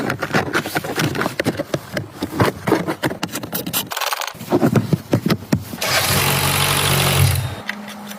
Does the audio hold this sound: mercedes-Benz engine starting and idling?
yes